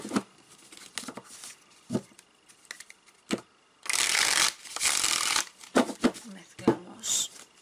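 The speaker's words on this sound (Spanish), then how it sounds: "Mezclamos un poquito y vamos a ver qué dice los ángeles para..." Tarot cards being shuffled by hand, a run of quick riffling bursts and soft taps with one long, loud shuffle in the middle, close and clear with no talk over it.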